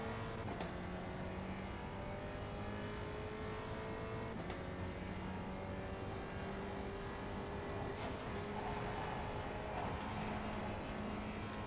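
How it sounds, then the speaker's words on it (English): A race car engine in a racing sim game drones steadily throughout, with tonal pitch lines shifting as it blips and changes gear, no voices over it. "Now I know that if I blip, it downshifts."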